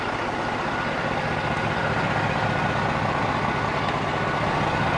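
An old semi truck engine runs in a steady, loud, continuous rumble with no break, close by and alone with no voices.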